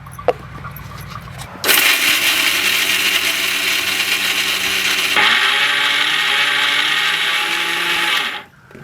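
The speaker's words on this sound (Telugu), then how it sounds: "ఇప్పుడు ఇవన్నీ మెత్తగా పేస్ట్ లాగా పట్టుకోవాలి" A kitchen mixer grinder whirs loudly as it grinds coriander seeds, peanuts and sesame into paste, running steadily for several seconds with a shift in pitch partway through before cutting off.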